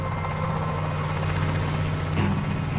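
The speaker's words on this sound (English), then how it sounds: "a helicopter is taking off on a special mission" A helicopter takes off on a special mission over Chernobyl as Pripyat empties, its low rotor and engine thrum holding steady with a strong low hum, swelling slightly toward the end, no voices over it.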